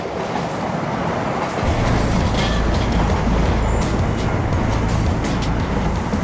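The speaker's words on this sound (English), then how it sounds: "There's nothing untoward as it's coming past, nobody hanging out the windows, nothing hanging off the train." An East Coast passenger train rolls into and through a station, a loud, close, sustained rumble of wheels on rail with a low drone that swells as the carriages pass and stays steady throughout.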